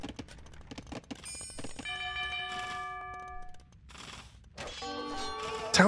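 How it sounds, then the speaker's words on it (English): Town bell in a medieval real-time strategy game rings as a cluster of bright metallic tolls with long ringing tails, mixed with light clicking from a keyboard and mouse, and a second burst of bell tones near the end. "Town bells rung"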